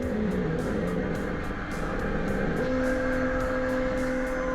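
A steady mechanical hum with a continuous whir and periodic faint clicks, loud and constant throughout, like a machine running a print job.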